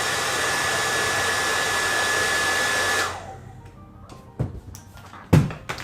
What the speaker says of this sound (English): you put a hairdryer here, you can actually feel the air come out from that hole